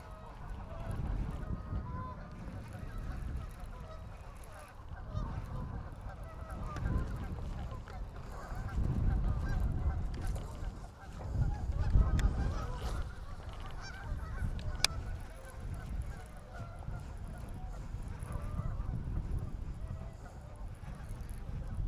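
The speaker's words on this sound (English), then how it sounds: "Loud geese." Geese honk noisily in the distance during bass fishing from a boat, a faint but steady chorus of calls rising and falling over about twenty seconds beneath low background rumble.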